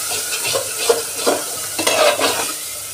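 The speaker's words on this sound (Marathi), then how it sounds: "तर आता हे असं म्हणजे तेल सुटेपर्यंत याला व्यवस्थित भाजून घ्यायचं आहे मसाल्याला" Homemade black masala is roasted in oil and stirred, with close, loud scraping strokes of a spoon through a sizzling paste, repeated every half second or so, and no voices.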